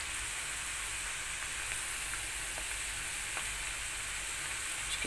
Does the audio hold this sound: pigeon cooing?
no